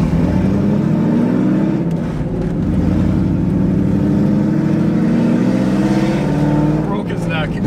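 A Ford Mustang V8 from the 1999–2004 New Edge generation with muffler and catalytic converter deleted and long tube headers idles and revs, a loud raw burbling roar with rising and falling pitch, held close up throughout.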